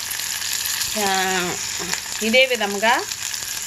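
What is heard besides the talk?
sorghum rava frying in pan until golden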